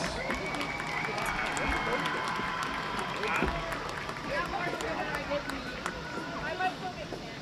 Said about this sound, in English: Please give a nice round of applause to our senior Cavaliers.